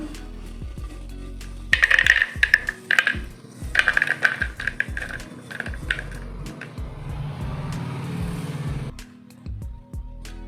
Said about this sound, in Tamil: நம்ம அப்படியே ஒரு பிளேட்டுக்கு மாற்றிக்கலாம்.